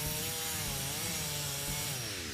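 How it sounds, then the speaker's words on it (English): A firefighter's power saw (skill saw) shown in the station tour of Firefighting Simulator: Ignite, running with a loud, steady droning whine and rubbing grind that holds for the whole stretch, alone. "The skill saw. Yeah, they cut all sorts of stuff."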